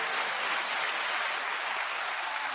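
Steady crowd applause, dense and sustained throughout, fairly loud with no voices breaking through.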